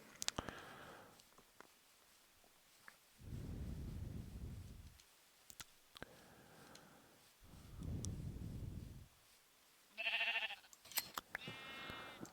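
Sheep bleat in Minecraft, a few separate synthetic bleats spread across the stretch, with a louder higher cry near the end over faint ambient game noise.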